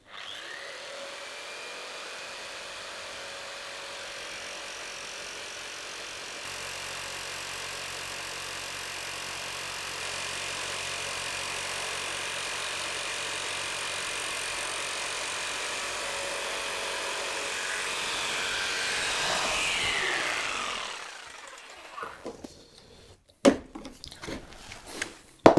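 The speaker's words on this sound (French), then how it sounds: "j'ai pris donc la sauteuse avec une petite lame un peu fine" A jigsaw fitted with a thin, fine blade buzzes steadily through wood, rising slightly in pitch as the cut goes on, then stops with a few clicks and knocks.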